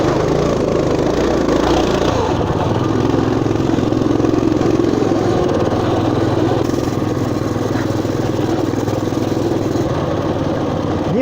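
Motoland RT200 pocket ATV engine revving loudly and steadily up close, a continuous mid-pitched drone with a buzzing rasp that holds throughout, with no talk over it.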